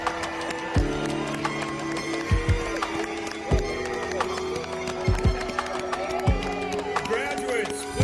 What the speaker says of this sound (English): Graduates, a nice big round of applause one more time.